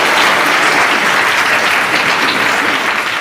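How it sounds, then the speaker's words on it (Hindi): Loud, dense applause from a quiz show studio audience, a continuous wash of many clapping hands filling the whole stretch with no voices. "चलिए जोरदार तालियां हो जाए भाई"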